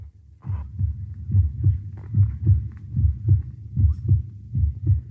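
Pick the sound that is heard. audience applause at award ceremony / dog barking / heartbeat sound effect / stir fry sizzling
heartbeat sound effect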